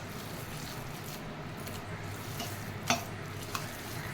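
Sabudana vada mixture being mixed by hand in a bowl, giving soft, continuous squishing and stirring with a couple of brief knocks, quiet and close.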